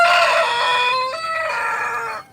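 A one-legged rooster at an animal sanctuary crows once, loud and close, a single drawn-out cock-a-doodle-doo that wavers and fades at the end.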